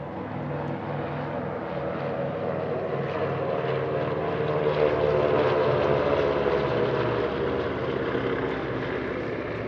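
A Swiss formation team of classic propeller transport aircraft flies over the Paris-Villaroche airshow, making a steady, broad engine drone that swells slightly midway and holds throughout.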